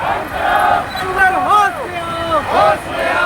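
Crowd of Adivasi protesters massed around a collector's office, loud hubbub of many voices with shouts and chanting rising and falling close by.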